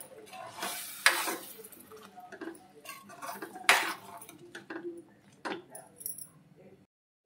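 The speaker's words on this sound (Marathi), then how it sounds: "ते टाकलं आणि चांगलं मिक्स करून घ्यायचं" Spice water poured into a pan of paneer curry and stirred in, with sharp metal clanks and scrapes of a spoon against the pan, irregular and close, then a brief pause near the end.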